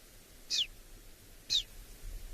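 A person on a sunset safari near cheetahs imitates a bird call with two short, high whistled chirps about a second apart, clear against quiet outdoor ambience.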